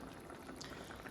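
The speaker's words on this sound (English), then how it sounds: "Since our water's getting ready to come to a boil" A pot of water for pasta comes up to a boil, bubbling and popping continuously up close with no voices.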